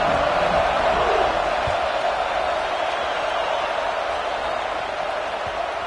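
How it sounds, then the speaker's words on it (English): A loud football stadium crowd at a playoff game roars steadily without a break, a dense wall of cheering and yelling that stays close and heavy throughout. "the crowd is making it really hard to communicate and hear each other right now down on the field"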